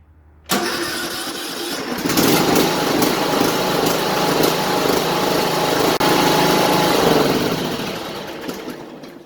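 A small engine cranks and catches after the starter button is pressed, then runs at a loud, steady buzzing idle that fades slightly toward the end.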